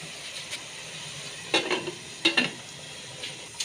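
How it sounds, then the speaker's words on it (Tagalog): Pork for kalderetang baboy sizzles in hot oil at a low steady hiss, broken by a few brief bursts of stirring and scraping in the pan, close and with no talking. "At pagkatapos masalinan, syempre hahaluin naman bago ko ulit ito takpan."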